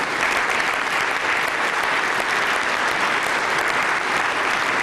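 Dense, sustained applause from a large audience at an award luncheon, steady and loud throughout with no pauses.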